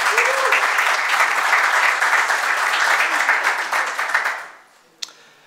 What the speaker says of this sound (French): je vous demande de les applaudir tous les deux en même temps